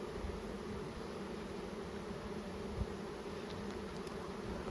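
Honey bees buzzing in an opened hive, a soft, dense, continuous drone of many wings with a brief knock partway through, faint and steady with no voices.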